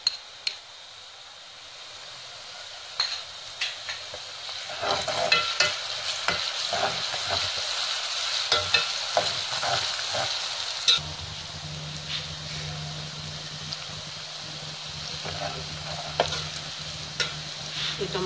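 Chopped onions with added ginger and garlic fry in a hot pan, giving a steady close sizzle broken by frequent scraping and clinking strokes from a spoon stirring the mixture, with no talking.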